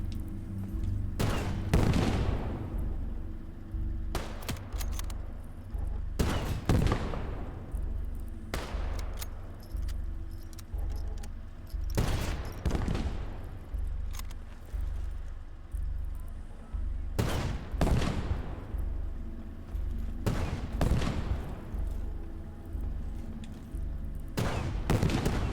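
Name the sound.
tank firing and gunfire in Gates of Hell: Ostfront video game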